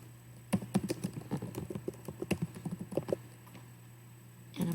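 Typing on a computer keyboard while building a digital student activity in Google Drive: a run of quick, close key clicks with a few louder taps, over a steady low hum, no talking.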